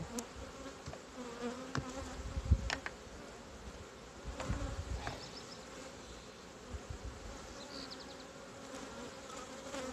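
Honey bees drone at an open hive in a dense, continuous buzz, with occasional faint taps and clicks nearby; no voices.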